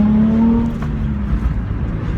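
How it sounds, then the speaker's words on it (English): A 2005 Nissan 350Z fitted with a Milltek exhaust drones loudly from inside the cabin with a window open as it drives under a bridge, a steady engine note that fades slightly after the first second. "I've left the window open as well so you can still hear a bit of exhaust sound"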